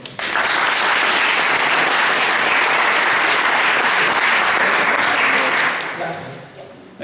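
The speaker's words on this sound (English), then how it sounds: "Let's have a round of applause." An audience at a science lecture on hydrogen fuel cells breaks into loud, sustained applause for a volunteer, a dense clapping roar lasting several seconds before fading out.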